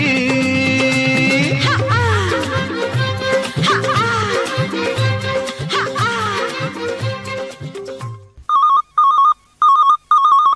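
Music plays loudly, then cuts off, and a telephone rings in repeated electronic bursts, clear and close, on a Hindi radio phone-in request show.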